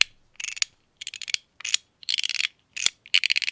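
MOT Groove fidget toy slid up and down, giving bursts of rapid, muted, bright clicking in short ratchet-like runs separated by pauses, close and fairly quiet.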